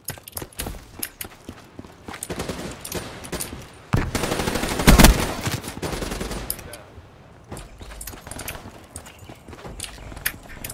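Rapid gunfire from Call of Duty Black Ops 3 gameplay crackles in bursts over several seconds, with a louder cluster in the middle and lighter clicks and footsteps around it, under occasional voices.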